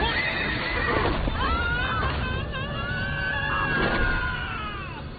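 Horses in a kung fu film fight scene about Mulan, with loud, close whinnies and neighs rising and falling over a busy background of hoofbeats and crowd noise.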